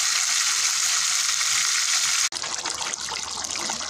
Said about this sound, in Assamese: প্ৰথমতে বিলাহী পিঁয়াজ ৰচুন আদা পেষ্ট মছলাখিনি ভালকৈ ভাজি এতিয়া মাংসখিনি দি দিছোঁ